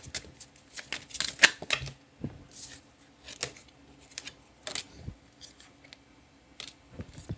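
Tarot cards being shuffled and drawn for a reading, giving a run of crisp riffling, flicking and sliding card sounds in quick bursts, close and fairly loud, with quieter taps and gaps between, no talking.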